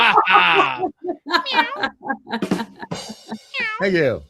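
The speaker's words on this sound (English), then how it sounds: "Wait, Wes has kittens?" Kitten meowing repeatedly in rising and falling high cries, close and fairly loud, mixed with people talking.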